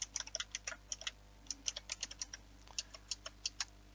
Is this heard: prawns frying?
no